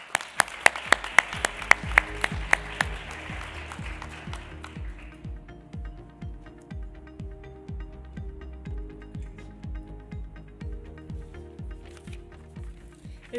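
Audience applause at the 2023 Green Business Awards ceremony, a burst of loud, dense clapping for the first few seconds that then fades beneath a steady, quiet tonal backing.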